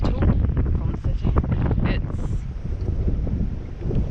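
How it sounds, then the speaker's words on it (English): Strong headwind buffeting the microphone while cycling along an estuary trail in drizzle, a steady loud roaring rumble with gusty swells throughout. "Strong headwind though"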